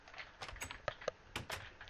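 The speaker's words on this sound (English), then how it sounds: "They're too busy typing." Quick, soft clicks of typing on a computer keyboard patter irregularly for under two seconds at a fairly low level.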